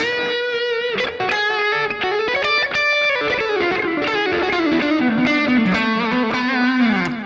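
An electric guitar run through a Digitech RP355 multi-effects pedal plays a sustained, sliding melodic line with heavy distortion and trailing delay repeats, loud and close with no voices.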